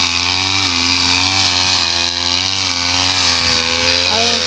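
A brush cutter trims a wide stretch of grass, its small engine holding a loud, steady, close whine with no pauses.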